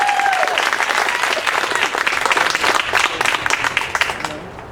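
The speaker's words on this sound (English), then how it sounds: "One last big round of applause for Pam." A crowd gives a big round of applause, loud dense clapping with a few cheers, and a voice briefly speaks at the start before the clapping gradually fades.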